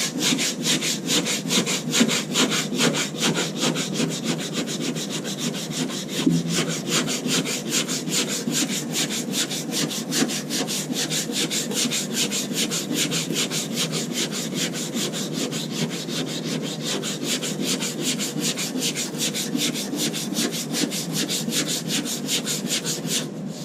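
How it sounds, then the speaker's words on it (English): Steady hand sanding with 80-grit paper on a block across a curved car body panel of a Nissan 300ZX, a continuous close, loud rhythmic rasping scrape with no pauses or talk. "when you're sanding, you want to keep the block in as much contact as possible"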